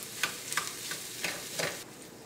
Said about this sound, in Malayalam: ഇതെല്ലാം കൂടിയിട്ട് നന്നായിട്ടൊന്ന് മിക്സ് ചെയ്യാം.